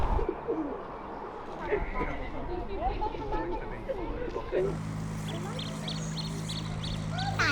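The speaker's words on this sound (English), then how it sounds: "Look at those pigeons." Pigeons coo in soft, low, repeated calls near a canal and boatyard, mixed with other bird sounds, before a steady engine-like drone takes over partway through.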